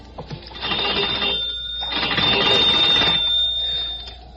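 An old-fashioned telephone rings in two long bursts with a short gap between them, loud and close, with no voices over it.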